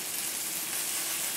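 Chicken browning in a hot pan, a steady close sizzle and hiss with no break, heard alone.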